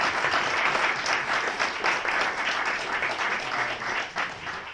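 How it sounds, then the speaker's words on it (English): Round of audience applause at a data visualization meetup's lightning talks, dense steady clapping that stays loud and fades slightly near the end. "One more round of applause for you."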